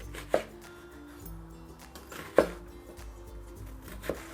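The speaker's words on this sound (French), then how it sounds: "Ensuite, on va couper dans ce sens-là. On va faire des fentes." A chef's knife cuts food into small dice on a board in a healthy cooking workshop, with three distinct, close, crisp chops spread evenly over a soft background hum.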